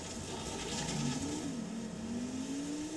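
Car engine from the Transformers Revenge of the Fallen video game on Xbox 360, revving steadily as the vehicle drives around, its pitch climbing and holding high; a continuous, fairly loud game sound with no talking.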